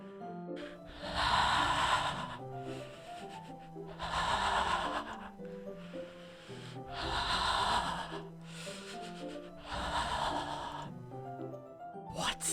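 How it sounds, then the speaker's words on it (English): Heavy, rhythmic breathing from the video game Doki Doki Literature Club, with four long, rasping breaths that rise and fall in slow, regular cycles, close and fairly loud. "It sounds like heavy breathing."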